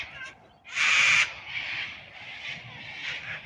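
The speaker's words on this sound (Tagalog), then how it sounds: "pansinin nyo yung mga huni nila. Napakaingay." Cockatoos in the Blue Mountains at Katoomba giving harsh, raucous screeches, one long loud call followed by several rougher squawks close by, with a voice faintly underneath.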